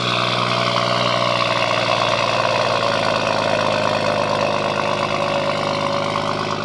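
A 460bhp BMW M140i idles loudly after a cold start, a steady, dense engine drone with rich harmonic layers holding throughout, close and alone.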